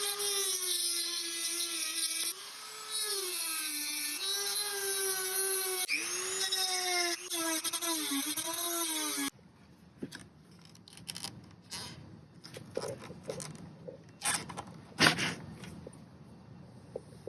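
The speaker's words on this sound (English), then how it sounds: "So I'm drilling out the rivet multiple times, kind of picking down the sides" A drill whines at varying pitch while boring out a rivet on a T3 Westfalia cabinet door hinge, the motor speed rising and falling. It then gives way to scraping, clicking and picking at the metal.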